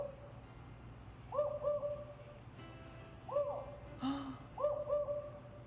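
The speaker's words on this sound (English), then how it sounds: "There's the owl." Owl hoots come in short pairs and runs, repeated several times at moderate distance as a sound effect during a children's story reading, with a faint voice heard briefly.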